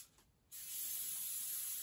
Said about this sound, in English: I'm going to spray that thing real good.